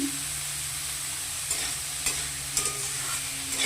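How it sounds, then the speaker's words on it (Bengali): Vegetables for chow mein fry and get stirred in a pan, a steady hissing sizzle with a few brief scraping stir accents near the end, close and alone without talk. "এরপর আমি সবজিগুলোকে ভালো করে ভেজে নিব"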